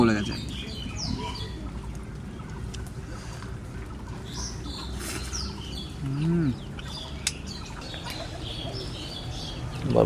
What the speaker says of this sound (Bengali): পাখিগুলো ডাকছে।